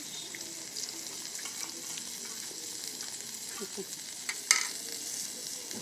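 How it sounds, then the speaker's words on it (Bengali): Potatoes frying in a pan with a little salt, a soft, steady sizzle at moderate distance with faint stirring clicks and a brief clatter near the end. "এখন আমি আলু একটু ভাজে নেব সামান্য একটু লবণ"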